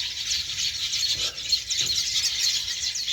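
Birds chirping and tweeting continuously at a moderate distance, a busy overlapping chorus of high calls with no talking.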